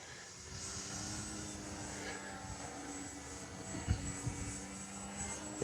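An E-Flite Extra 300 RC airplane drones faintly in the distance with a steady electric buzz, rising and falling gently as it flies, and a few soft bumps near the microphone.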